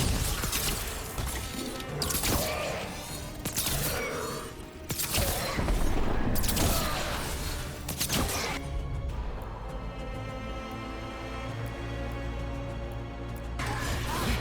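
A bomb goes off in the fantasy action game Dragon Age: The Veilguard, a run of heavy crashing blasts and debris over game music, followed by a calmer stretch and one more burst at the end.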